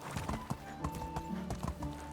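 A donkey's hooves clip-clop steadily as it is ridden in the Medieval Dynasty video game, with a brisk, even beat of close hoof strikes over sustained background tones.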